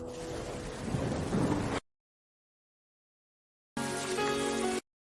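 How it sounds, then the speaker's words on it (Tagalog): Rain falls steadily at night with a dense rushing hiss, then cuts to silence before a second burst of rain returns, loud and close, with no voices. "truth is, Celia, this rainy night, doesn't it feel familiar?"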